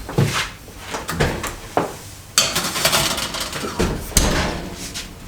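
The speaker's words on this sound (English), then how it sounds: "I'm going to put them in the oven, 550 degrees." Kitchen oven door bangs open, a pan of Paulie's double wide pepper pizza snacks slides onto the rack with metallic scrapes and knocks, then the door thumps shut, all close and loud without speech.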